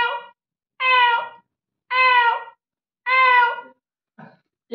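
A man imitates a cat with his voice, giving four evenly spaced, drawn-out meows, close and clear, followed by a short fragment.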